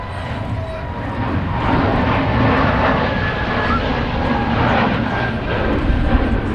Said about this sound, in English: EasyJet now rolling.